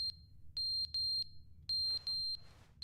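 A repeated high electronic beep from the video game The Stanley Parable, sounding in short regular pulses, a couple of them longer, over a low background hum.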